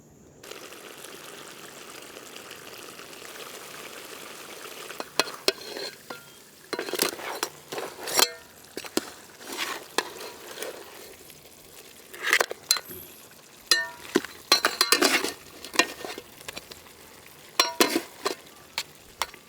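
Mud crab masala cooking with tender coconut in a village pan: a low sizzle under repeated scraping stirs and clinking strokes of a spoon against the pan, coming in irregular bursts.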